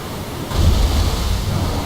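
Ocean surf in the video game Assassin's Creed Odyssey rises into a sustained low rumbling wash of waves, steady and enveloping after a quieter start, with no voices.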